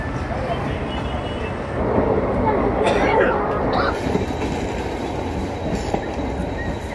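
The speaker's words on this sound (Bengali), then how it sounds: "প্ল্যাটফর্ম থেকে ছেড়ে দিল ব্ল্যাক ডায়মন্ড এক্সপ্রেস" The Black Diamond Express pulls away from the platform, its wheels rumbling and clattering along the rails, swelling louder mid-way with a brief metallic squeal, heard from on board with some voices in the background.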